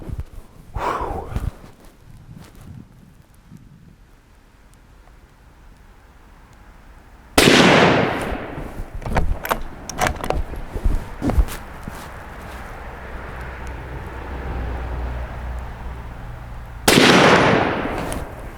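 Two loud, close shots from a Mauser 2000 rifle in .308 Winchester aimed at a target about 120 yards away, each a sudden sharp blast with a long fading tail, amid outdoor rustling and brief exclamations.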